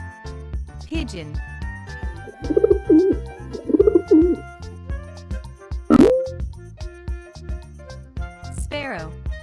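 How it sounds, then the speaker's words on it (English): A pigeon coos in a short series of soft, rhythmic throaty calls, close and clear over light background music. "Pigeon."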